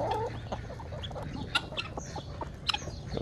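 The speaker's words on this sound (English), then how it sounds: "look at these chickens" Several chickens cluck and chatter nearby, with scattered short calls over a low background hum.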